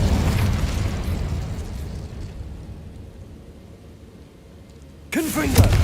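The Incendio fire spell in Hogwarts Legacy bursts with a loud whooshing blast that fades into a low roar, followed by a quieter lull and then a sharp new burst with a crackle near the end.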